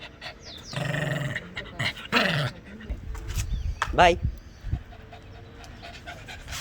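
A pet dog pants in quick breathy bursts, fairly close, with a person speaking briefly over the sound.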